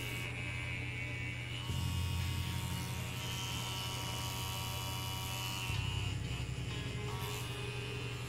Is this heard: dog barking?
no